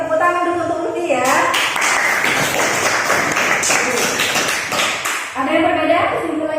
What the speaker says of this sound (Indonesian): Tepuk tangan dulu untuk Lutfi ya